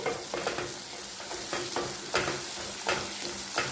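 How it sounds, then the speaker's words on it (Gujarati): Onions sauté in a pan for zunka, a steady close sizzle and frying hiss broken by repeated scraping stirs at a loose rhythm, with no talk. "ડુંગળી આપણે ફક્ત ટ્રાન્સફોર્મ થાય એટલી જ આપણે સાતળવાની છે"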